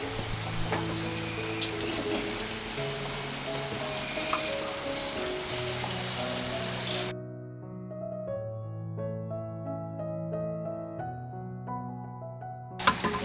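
A tempering sizzles in a pot for a fish curry, a dense hissing fry heard under steady music for the first half before only the music carries on.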